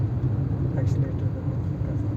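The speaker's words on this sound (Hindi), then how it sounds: "पहले एक्सीलेटर बढ़ाओगे, हल्का साउंड करेगी तब गियर बढ़ाओगे।" Car engine droning from inside the vehicle during a driving lesson as the accelerator is pressed, a steady low rumble under a voice.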